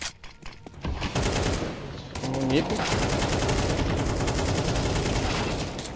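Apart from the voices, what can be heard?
gunfire in a shooter video game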